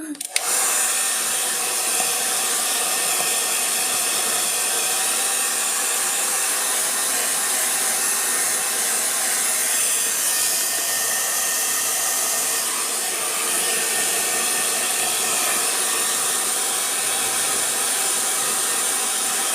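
An affordable hair blower runs close by in a steady, loud whooshing roar that lasts the whole time with little change.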